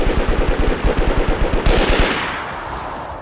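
Rapid automatic gunfire in the DayZ survival video game, a steady burst of evenly spaced loud shots for over a second and a half, then a fading echoing tail with no talk.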